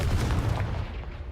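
A Confringo blasting spell detonates in the video game Hogwarts Legacy, a deep rumbling boom that fills the short moment and slowly fades, loud and close with no voices over it.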